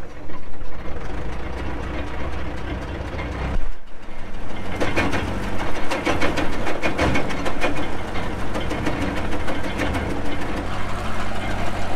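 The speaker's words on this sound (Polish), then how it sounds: "No i odpalamy traktor i próbujemy." Tractor-powered wood chipper shredding garden branches cut from various trees: a loud, steady engine drone with dense grinding and crackling, briefly dipping before resuming continuous chipping throughout.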